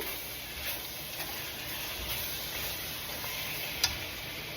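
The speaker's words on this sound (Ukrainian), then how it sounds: "Тепер додаю я наші грибочки. Це все добре я перемішую." Mushrooms stirred in a frying pan while making mushroom gravy, a continuous gentle sizzle with soft scraping strokes and one sharp clink of the utensil near the end.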